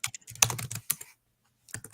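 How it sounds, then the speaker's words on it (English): Typing on a computer keyboard during an online sports talk call, close quick bursts of key clicks, a short pause, then another brief flurry of keystrokes. "Is that you typing, Kurt?"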